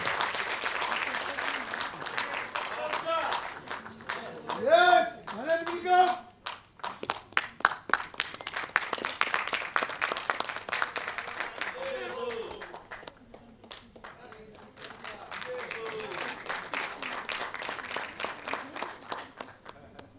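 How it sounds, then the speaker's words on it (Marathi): Loud, sustained audience applause fills a stage ceremony marking 100 years of Veer Savarkar. The clapping swells and fades in waves, and a voice speaks over it at times. "जरा जोरदार टाळ्या शैलेंद्र चिखलकरजींसाठी"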